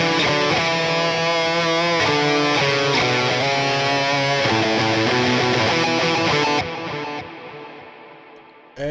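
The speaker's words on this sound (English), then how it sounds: "Here is my black hole send, the Eventide black hole reverb." Lead guitar plays through an Eventide Black Hole reverb followed by an EQ, giving a dense, sustained distorted melody with lush washing tails that ring on alone after the playing stops.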